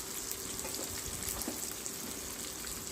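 Ridge gourd sautés in a pan with asafoetida, salt and tamarind pieces, giving a steady, close, even sizzle and crackle that runs throughout with no voices.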